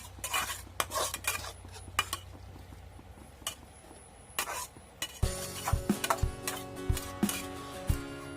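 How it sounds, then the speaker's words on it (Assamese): A metal lid clanks onto a pot of cooking sotora greens, giving several sharp clatters and knocks against the rim; quiet kitchen clinks come first, then a denser run of metallic rattles near the mic. "তাৰপিছত ঢাকনখন দি দিম"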